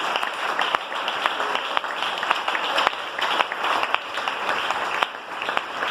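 Church congregation applauding in praise, a sustained wash of many hands clapping with occasional sharper individual claps standing out, even and moderately loud throughout.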